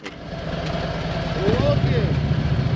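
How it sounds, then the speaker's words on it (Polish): Motorcycle engines idle with a steady low chugging rumble, voices talking over them close by. "motorki w ruch lecimy"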